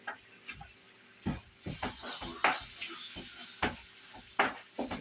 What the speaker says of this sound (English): Get this hamburger cut up, fried up.